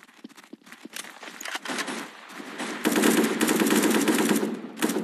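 AK-47 gunfire from the Special Force video game starts as scattered shots and builds into dense rapid automatic bursts that carry on in the later half.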